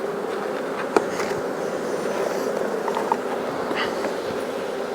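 Honey bees buzzing around an open hive during a frame inspection, a dense continuous hum close by with a few faint clicks from handling, no talk.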